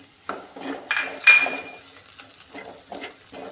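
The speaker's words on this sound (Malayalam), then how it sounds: "ചേർത്ത് നന്നായിട്ട് യോജിപ്പിക്കുകയാണ്" Spice powders for fish curry (coriander, turmeric, pepper, salt, fenugreek) stirred together in a pan, a series of soft scraping strokes with light clinks of a utensil against the metal, close and fairly quiet.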